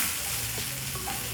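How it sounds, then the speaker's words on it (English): Vegetables sautéed lightly in a pan for a chapati rolex give a steady, close sizzle with soft stirring throughout, and no one speaks. "So I'm only sauteing my veggies a little bit."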